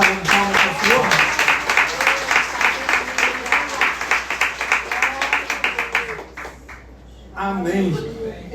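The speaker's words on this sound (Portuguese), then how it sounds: "Você pode dar uma salva de palmas para o Senhor?" Church congregation clapping in steady rhythmic unison during a Portuguese-language worship service, loud and close for about six seconds, then fading as a voice resumes speaking.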